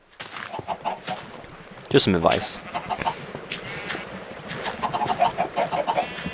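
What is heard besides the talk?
chickens clucking in Minecraft video game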